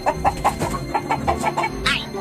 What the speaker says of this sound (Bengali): আর তাকে দেখে মুরগিগুলো খুব জোরে জোরে ডাকাডাকি করতে শুরু করে